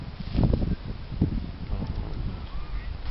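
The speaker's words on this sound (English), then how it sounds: "It's kind of windy a little bit right now" Gusty wind buffets the microphone in low, rumbling bursts, strongest near the start, then settles into a steady outdoor roar.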